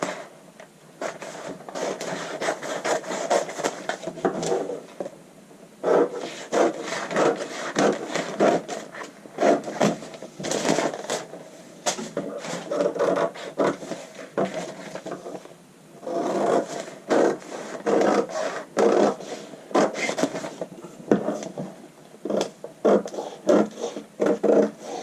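Scissors cut out the front piece of a paper mermaid skirt pattern, producing repeated crisp snips, paper rustles and scrapes in uneven bursts with short pauses, close and alone without talk.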